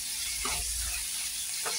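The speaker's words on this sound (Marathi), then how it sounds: "आपल्याला भाज्या फक्त तेलामध्ये अशा परतून घ्यायच्या।" Sliced capsicum and beetroot sauté in hot oil with a constant close sizzle. Two soft scraping stirs sound partway through.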